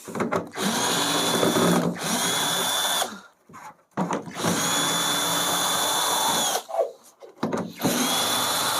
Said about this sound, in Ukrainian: шуруповертом ще буду знімати, не буду дрейкою, бо ну, вона більш шумить